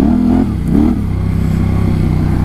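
Yamaha Tenere 700 motorcycle riding a sandy trail, its engine loud and close with a steady droning note that briefly rises and dips, accompanied by wind rush and rattling.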